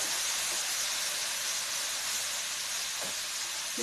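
Milk is poured into a hot pan for rice halwa and sizzles hard. A loud, steady, steamy hiss runs unbroken and close, with faint bubbling pops.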